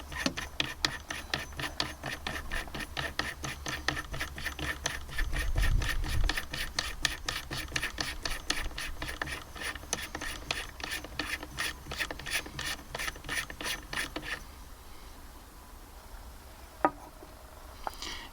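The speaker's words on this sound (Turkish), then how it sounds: "Bu silah nasıl sökülüyor? Öncelikle alev gizli söküyoruz." The flash hider of a Serengeti AUG 12 is unscrewed, producing a long, steady run of close, rapid ratcheting clicks that stops abruptly, followed by a quieter pause and one faint knock.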